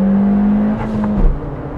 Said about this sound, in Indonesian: Enak banget tuh, ganti gigi 2 bunyi langsung.